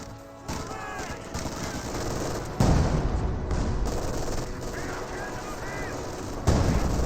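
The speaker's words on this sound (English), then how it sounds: "the Su-76 is getting some good barrages there on the MG42" Su-76 artillery barrage falling on an MG42 position in a strategy video game, dense rumbling explosions and gunfire layered with battlefield noise, with a heavier boom midway and another near the end.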